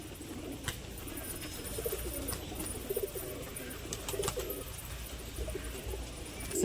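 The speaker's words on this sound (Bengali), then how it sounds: "পায়রা দেখাচ্ছি বন্ধুরা, এটাও ঘরেরই পায়রা" Domestic pigeons kept at home coo softly in short low bursts against a steady background hum, the calls faint and scattered with occasional light clicks and rustles.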